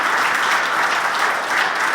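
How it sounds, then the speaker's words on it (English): Sustained applause from a crowd at a public comment meeting on a proposal to close the Jamesville jail in Syracuse, steady and dense throughout the short stretch. "public comment period punctuated by applause for the captain of corrections"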